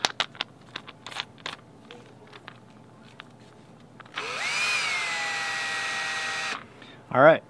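A drill fitted with a buffer pad on a metal dowel spins against RV gel coat, giving a steady whirring drone for a couple of seconds after some handling clicks and speech, then a short high rising whine.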